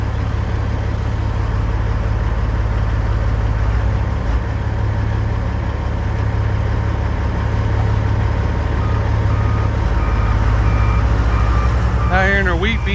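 A farm truck rumbles at a low steady idle near a soybean field, its engine droning continuously before a run of reversing beeps sounds at the very end.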